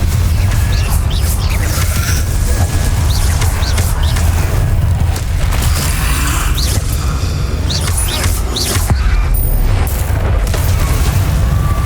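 Continuous booming blasts from Hogwarts Legacy spellcasting, a loud rumbling wash of explosions with crackling bursts layered throughout and no speech.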